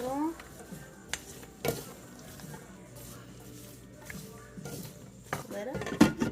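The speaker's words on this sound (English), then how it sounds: "Stir that around a little." A spoon stirs food in a slow cooker for cashew chicken, with dashes of coconut aminos added. Scraping and knocking against the pot come in several uneven bursts, close by, with some louder clanks near the end.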